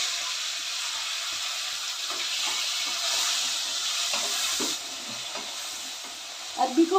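Pieces of taro root seasoned with red chilli powder and salt fry in hot oil, giving a steady, even sizzling hiss with faint stirring clinks near the end.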